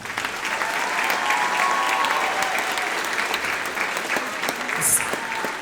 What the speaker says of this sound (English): And one more round of applause for the band behind me.